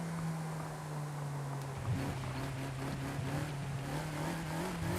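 A Ferrari engine in Forza Horizon 5 hums as a steady, faint drone, its pitch shifting slightly as the revs rise, under a low wash of road and wind noise.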